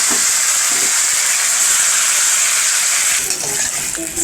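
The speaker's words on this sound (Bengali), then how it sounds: "আর এই চিকেন কষাটাকে একটুখানি গরম করে নিচ্ছি।" Chicken kosha curry sizzles and hisses loudly and steadily in a hot pan while being reheated, with faint stirring clicks near the end and no talking.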